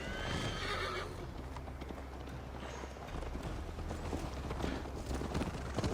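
Horses in Assassin's Creed Valhalla, with a loud whinny at the start followed by steady clip-clopping hooves of a galloping ride, continuing rhythmically to the end.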